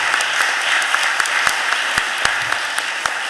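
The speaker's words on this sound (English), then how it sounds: "Give him a real big round of applause." Audience in a council chamber at a morning budget hearing gives a round of applause, a dense continuous clapping with a few sharper individual claps standing out, loud and close.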